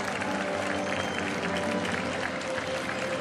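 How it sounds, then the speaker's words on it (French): Steady applause from a crowd greets the winning harness racing driver at Vincennes, a dense continuous clatter of clapping hands filling the stands throughout, with a voice faintly beneath it. "pendant qu'il est applaudi et accueilli"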